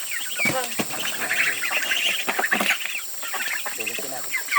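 Ducks carried to market in rural Vietnam quack and squawk in a busy, overlapping cluster close by, with occasional handling noise and people talking among them.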